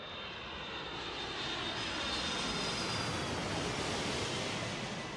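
Air France Flight 4590 Concorde jet engines on takeoff roll, a steady, broad roaring rush that holds a constant level throughout.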